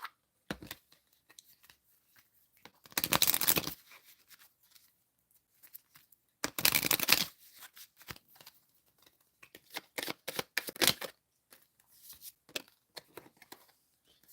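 A tarot-style card deck is shuffled by hand in two loud riffling bursts, followed by scattered soft taps and slides of cards, close up in an otherwise quiet room.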